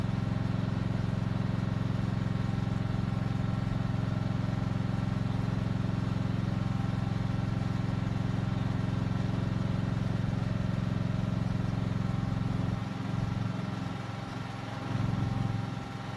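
A hydraulic spinner motor on a chemical seed spreader runs fast with a steady, loud mechanical drone and hum that stays constant close by, easing off briefly near the end.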